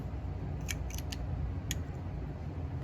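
Small travel scissors snip crochet yarn, making a few faint, crisp clicks spaced unevenly over a steady low background hiss, with no talking.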